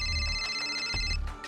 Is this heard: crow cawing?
no